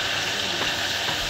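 Butter sizzles steadily in a hot pan while eggs cook, a continuous close frying hiss with no voices.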